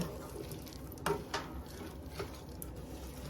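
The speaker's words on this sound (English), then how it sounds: "just mix everything together" Lentil soup ingredients stirred together in a pot, a few soft scraping and sloshing strokes of a spoon heard close and fairly quiet over low background hiss.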